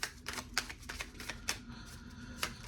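Oracle cards being shuffled by hand, a run of quick papery riffles and flicks in short bursts, fairly quiet and close, with no talking over them.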